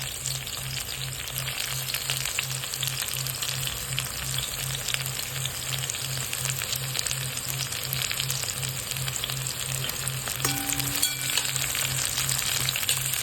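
Chopped onion fries in a pan for bhendi bhaji, a continuous, even sizzle with light stirring over a faint regular low hum.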